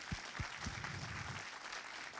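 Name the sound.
audience applause welcoming Rintaro on stage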